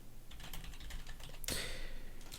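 Quick bursts of clicking keystrokes on a computer keyboard, close and fairly quiet, with a brief louder clack midway.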